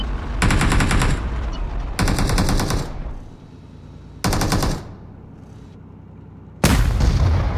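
Heavy-weapon gunfire in the mobile battle-royale game PUBG Mobile: four loud, rapid automatic bursts, each lasting about a second, separated by short pauses with faint echoing tails.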